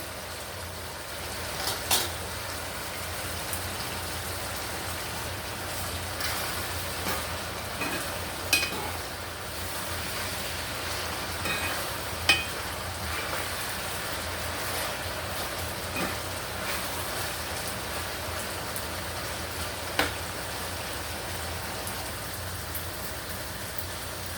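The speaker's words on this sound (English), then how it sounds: "let those stay there and fry a little on that side" Food frying in hot oil until golden brown gives a soft, steady sizzling hiss, fairly quiet and continuous, with a few faint clicks and pops scattered throughout.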